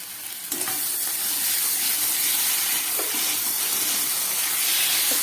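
Ground paste of ginger, cumin, chilli and a little garlic hits hot oil in a pan, erupting into a loud, steady sizzle with hissing steam that holds throughout, a few faint stirring scrapes underneath.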